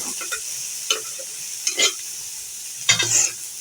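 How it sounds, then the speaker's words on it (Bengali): Leafy greens (shak) frying in a pan on a gas stove, with a soft steady sizzle broken by four or five separate bursts of scraping and stirring. "এই যে আমার শাকটা ভাজা ভাজা হয়ে গেছে।"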